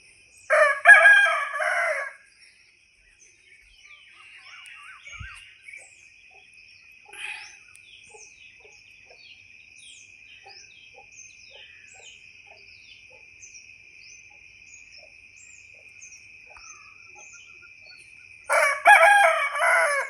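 Two loud rooster crows in the morning in a village, one at the start and one at the end, with a steady insect drone, faint bird chirps and a distant cluck between.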